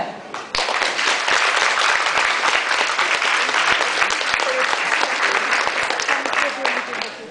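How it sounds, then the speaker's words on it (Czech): Loud, dense applause from a crowd at a veterinary school ball as the parents are thanked, bursting in abruptly and continuing as a sustained roar of clapping. "prosíme o obrovský aplaus pro rodiče"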